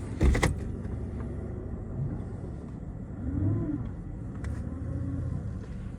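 A Mercedes CL600 with a transmission that won't shift and power loss pulls forward: a low, steady engine rumble heard from inside the car, with a brief jangle of keys at the start and a slight rise midway.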